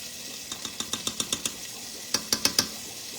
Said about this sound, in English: it's great to get it into the oil right away so it can start to like saute and create great flavor